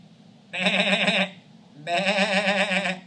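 A sheep bleats twice, close and clear, each call a wavering, quavering baa lasting under a second, separated by a short pause.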